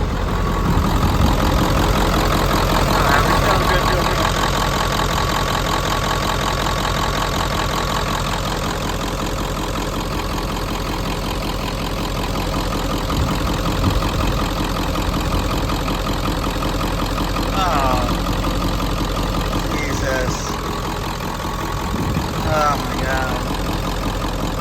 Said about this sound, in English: still having a rough ride, rough idle.